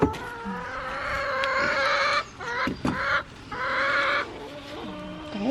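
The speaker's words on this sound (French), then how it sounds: "Il y a des poules." Several hens cluck and chatter close by in a garden, a busy overlapping run of calls with short pauses between bursts.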